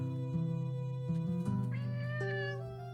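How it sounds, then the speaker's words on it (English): A cat meows repeatedly up close, a run of drawn-out, wavering cries that rise into a louder, strained caterwaul near the end, with no talking. "Damn cat."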